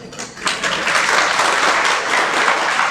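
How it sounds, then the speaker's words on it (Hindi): Audience clapping at a Hindi religious sermon by a Jain monk, a dense, steady wash of many hands that swells in after a brief lull and holds loudly throughout. "देखो, ताली मत बजाओ, बजाओ तो अच्छे से बजाओ।"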